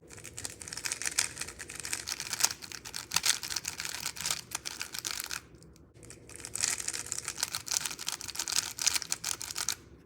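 WRM V10 speedcubes, one coated with dry lubricant and one standard, turned quickly in continuous crackly, clicking bursts, with a short pause midway before the turning resumes, close up and fairly loud.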